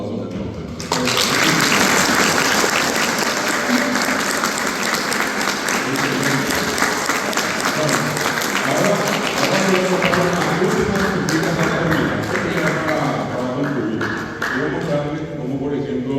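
A school audience in Asunción breaks into loud, sustained applause that starts abruptly and continues steadily for about fifteen seconds, dense and close, with a few voices mixed into the clapping.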